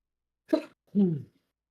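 Two quick bursts in a quiet room, a sharp breathy catch followed by a fuller explosive sneeze, close to the listener.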